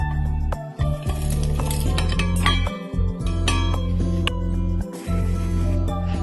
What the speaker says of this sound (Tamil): கேஸ் ஆஃப் பண்ணிட்டு இதை நம்ம ஒரு மிக்சி ஜாரில் நம்ம ஆட் பண்ணணும்